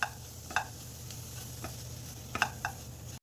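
A spoon stirring ground spices into a simmering Kerala-style crab curry in a pan, with soft scraping strokes and faint sizzling over a steady low bubbling hiss, close and unhurried.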